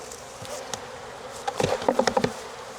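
Honeybees at an open hive, a busy buzzing swarm with several close, louder buzzes swelling and fading as bees pass near, over a steady background hum.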